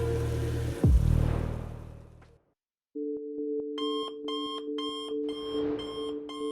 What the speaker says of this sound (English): The next morning, Pamela woke up to the sound of her alarm.